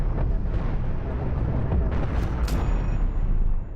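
Missile strikes tear apart a spaceship in the Cosmoteer space combat game, a dense roar of overlapping explosions and crackling bursts that holds steady and loud for several seconds before cutting off abruptly.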